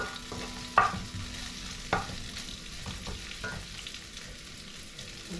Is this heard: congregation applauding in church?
no